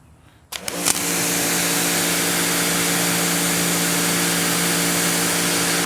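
A pressure washer fitted with a 15 degree nozzle kicks on after a brief quiet start, then sprays in a loud, steady hiss over a constant motor drone that holds without a break.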